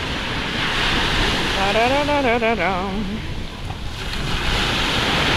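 Steady surf rushes onto a crowded beach with sunbeds, a close, continuous wash of wave noise, while a brief voice rises above it in the middle and then fades.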